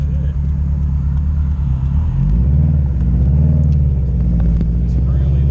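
A 380 WHP Subaru WRX STI engine rumbles loudly and roughly while driving at night, with a deep roaring exhaust note from an exhaust leak that rises slightly, close up.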